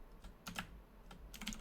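Quick clusters of computer keyboard taps during a Dungeon Crawl Stone Soup game, faint and close, a pair of keystrokes followed by a rapid flurry.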